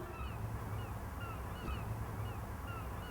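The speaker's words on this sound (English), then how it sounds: "Look at the birds now." Birds call outdoors in a steady, moderately faint scene, with repeated honking, goose-like cries scattered over a constant low background hum.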